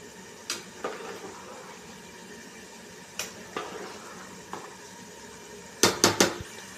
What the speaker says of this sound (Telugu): బియ్యం వేసుకున్నాక కలుపుకుందాం.